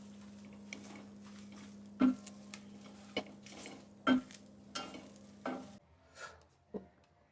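Garlic and curry leaves fry together in a pan for a curry leaf chutney, with a soft sizzle broken by a few sharp clacks of a utensil stirring against the pan.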